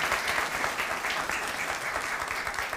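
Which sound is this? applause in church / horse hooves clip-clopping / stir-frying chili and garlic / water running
applause in church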